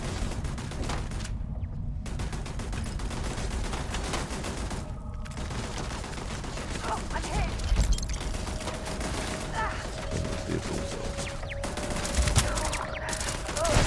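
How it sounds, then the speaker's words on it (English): Gunfire from a high-level turret in Starfield, rapid bursts of shots with brief pauses across a noisy firefight, some voices in the mix. "Is that really a level 150 turret?"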